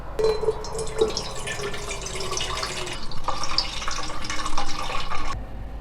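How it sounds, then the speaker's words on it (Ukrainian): Pickle brine from fermented cucumbers pours in a continuous splashing stream into a pot, trickling and gurgling steadily for several seconds before tapering off, close by with no voices. "ми зливаємо розсол у каструлю"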